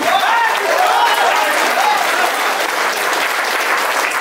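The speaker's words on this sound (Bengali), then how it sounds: "সবার জন্য সবাই দেন জোরদার হাতের তালি" Audience applause at a leadership gathering: a dense, loud wash of many hands clapping continuously, with faint voices mixed in, steady throughout without a break.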